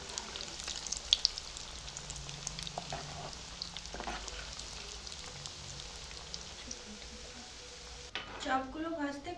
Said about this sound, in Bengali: তেল খুব ভালোভাবে গরম হওয়ার পরে চপগুলো ছাড়তে হবে।